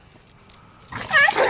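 A dog gives a short burst of barking and whimpering, quiet at first and then growing loud and close in the final half second.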